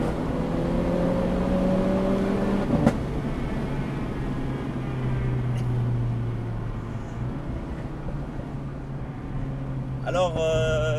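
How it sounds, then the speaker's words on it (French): A Renault Clio IV RS 200 EDC fitted with an Akrapovič exhaust drones steadily under acceleration, heard from inside the car, with a sharp pop and a rising engine note near the end while a person talks. "cette Clio est équipée d'un échappement AK-47, parfait pour les soirées"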